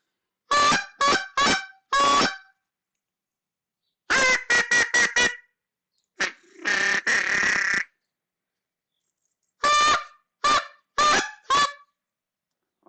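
Short bursts of honking goose calls, made with a duck call to bring in geese, come in quick rhythmic series, loud and close, separated by brief silences.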